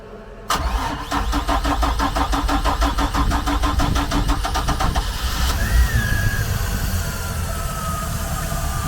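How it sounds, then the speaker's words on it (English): A Mercruiser 4.3 engine in a 2013 Bayliner 195 boat cold-starts after a long winter: a loud rapid starter cranking for about five seconds, then the engine catches and settles into a steady rumbling idle. "That's a cold start after a long winter."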